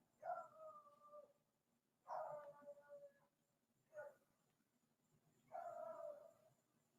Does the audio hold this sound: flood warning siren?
no